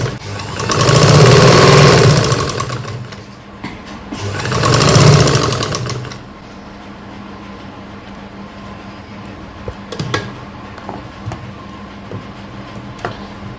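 A sewing machine stitching the shoulder seam of a kurti, with two loud, close bursts of rapid rhythmic whirring separated by a brief stop, then quieter handling clicks.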